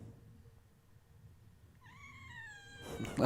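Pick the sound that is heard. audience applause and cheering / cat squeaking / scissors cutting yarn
cat squeaking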